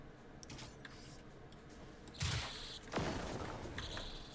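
A tank's railgun fires at a Harvester machine in Generation Zero, two sharp cracking blasts a moment apart cutting through a low ambient hum, each with a short ringing tail.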